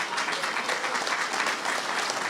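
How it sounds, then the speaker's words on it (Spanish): Dense, sustained applause from a crowd at a political event in Uruguay, loud and even throughout the short stretch with no pauses. "Tiene que ser, yo lo quiero oír más fuerte ese aplauso,"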